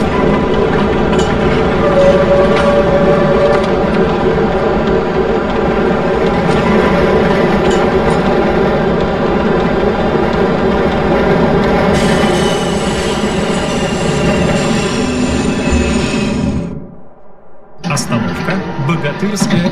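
A video game tram rumbles steadily along rails with a constant mechanical hum and faint wheel squeal, then a brief drop to near silence before it resumes.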